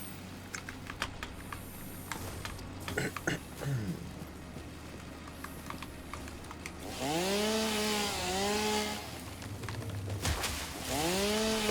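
Chainsaw cutting wood in the video game Satisfactory: a loud, steady engine drone with rising and falling pitch sweeps, revving in two long bursts after earlier clicking and tapping sounds.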